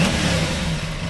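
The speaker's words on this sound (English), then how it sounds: "As I flip the throttle, see if she wants to die." An Aprilia Tuono 660 motorcycle with poor throttle response revs under throttle, a loud, close, steady engine drone throughout the brief moment.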